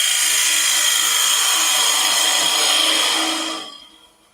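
A wood lathe turning a piece of spare timber into a jam chuck, whining loudly and steadily with a high-pitched cutting tone, then quickly spinning down and fading away near the end.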